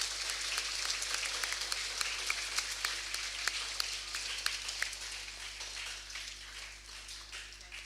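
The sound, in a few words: applause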